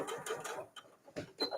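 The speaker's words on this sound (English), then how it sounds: "so I'm going to backstitch" A sewing machine backstitches fabric for a mug cozy in a few short, close mechanical bursts of rapid stitching.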